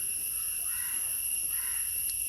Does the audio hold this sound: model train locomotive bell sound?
no